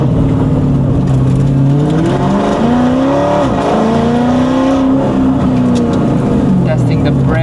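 Mercedes SLS AMG GT3 with a straight-pipe exhaust blips and drops through the gears, loud and close throughout, with the engine note rising and falling in steady pitch sweeps.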